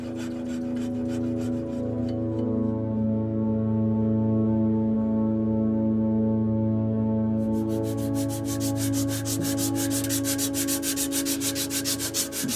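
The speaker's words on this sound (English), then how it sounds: "The sanding is when I can really get lost in a pipe" Sandpaper rubs against a wooden tobacco pipe in steady back-and-forth strokes, close and fairly loud, with a quicker, harsher rasping rhythm in the second half.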